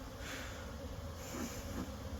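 Honeybees buzzing around farm hives, a faint, steady drone of many insects close by with no voices, holding evenly throughout.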